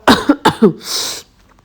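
Three sharp, close coughs in quick succession, followed by a breathy exhale or throat clearing, then quiet.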